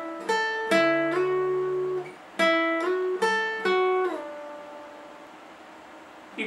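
Slow guitar riff, single picked notes ringing out with slides down the neck, three clustered phrases separated by short gaps, clean and close with no talking.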